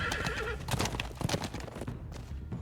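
Horses in The Walking Dead Telltale game whinny loudly amid clattering hoofbeats and commotion, several neighs close together across the span, with no talk.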